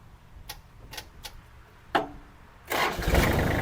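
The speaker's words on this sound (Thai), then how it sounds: "อ่ะเดี๋ยวลองติดเครื่องดู" A Kubota L3408 4WD tractor gives several brief clicks and one louder crank before its diesel engine catches and runs loud and steady close up.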